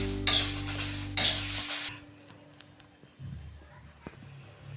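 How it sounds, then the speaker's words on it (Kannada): Dried red chillies roasting in a pan for an Iyengar-style fenugreek puliyogare, stirred with a metal spoon. Two loud scraping, sizzling strokes come in the first two seconds, then quieter clinks and light clatter. "ಮೆಣಸಿನ್ಕಾಯಿ ಏನಾದ್ರು ಚೆನ್ನಾಗಿ ಹುರ್ಕೊಂಡು ಹಾರಾಕಬೇಕು"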